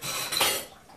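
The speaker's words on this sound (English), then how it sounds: "I'm gonna rinse these fry pans off." Frying pans being rinsed in a kitchen sink after boiling sugar, with metallic clatter of pans and running water, a brief louder splash and clank in the middle, close by, without talk.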